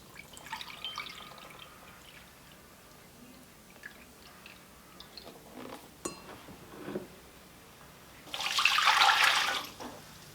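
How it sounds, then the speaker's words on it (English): Apple juice pours into a big pot of brine made with kosher salt, a loud, steady liquid splash lasting about two seconds near the end, after quieter clinks and handling noises. "I'm going to add 3 cups of apple juice."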